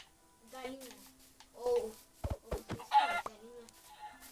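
Chicken clucking in the Minecraft video game, a few short bursts mixed among a player's talk and game sounds, fairly quiet overall.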